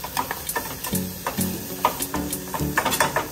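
Ingredients sizzle in a hot pan while being stirred, a steady frying hiss broken by repeated scraping and clacking strokes of the spoon against the pan.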